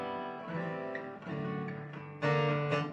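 Acoustic guitar strummed rhythmically with a fingernail, bright chords ringing close and fairly quiet in short uneven bursts over three seconds, without any voice.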